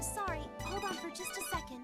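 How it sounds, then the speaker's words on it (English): A phone rings in the video game Devil Survivor 2, with a bright electronic ringtone sounding under a voice that speaks throughout. "Oh, that's my phone."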